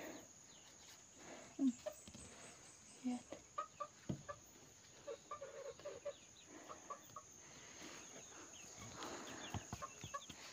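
A chicken clucks repeatedly in short, irregular bursts, fairly close, over a faint steady background hum.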